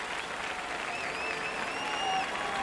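An Olympic crowd at a synchronized swimming duet final applauds steadily, a dense wash of clapping with faint whistles rising above it, heard from within a large arena.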